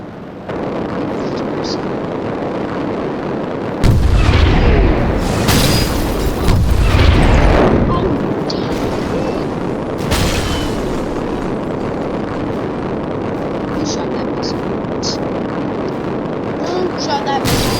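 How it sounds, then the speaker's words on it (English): Missiles fire and explode in the War Wings naval air combat game, with heavy booming blasts and rumbling roars over a steady engine drone, loud and close. "Shot that missile."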